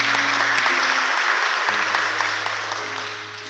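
A church congregation applauds after a Gospel reading in a dense, steady wave of many hands clapping together, slowly fading toward the end, with a low electrical hum beneath.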